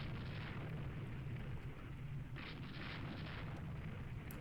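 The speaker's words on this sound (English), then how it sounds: "The rear turrets are firing, but I think they are basically out of order" Cruiser turrets fire during a naval battle in the Rule the Waves II video game, heard as a quiet, continuous low rumble with a brief, brighter burst of gunfire partway through.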